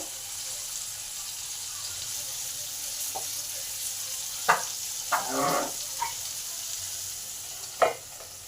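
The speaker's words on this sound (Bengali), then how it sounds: "4 সাইডটাই লাল লাল করে ভেজে নেব।" Pieces of pointed gourd fry in oil in a pan as they are turned to brown on all sides. A steady, moderate sizzle runs throughout, broken by a few brief clinks and scrapes of stirring. No one speaks.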